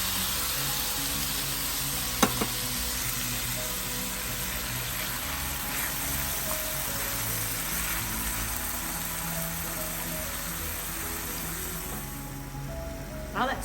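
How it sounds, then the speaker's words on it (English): A vegetarian mofongo sauce with tomatoes bubbles in a pan, keeping up a steady, even sizzle that runs close and continuous, with a couple of faint clinks. "Now I'm going to let it simmer for a minute. We're gonna add in our tomatoes."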